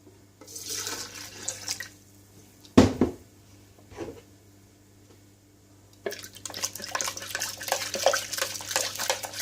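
Hot water splashes and pours into a Coopers IPA home-brew malt extract can to rinse out the last of the malt, with intermittent trickling, a couple of sharp knocks, then a steady louder rush of running water near the end.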